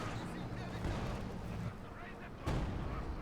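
Katyusha rocket launchers fire in a Company of Heroes 2 match between German and Soviet forces, with dense booming salvos and a renewed loud burst near the end, heard under a commentator's talk.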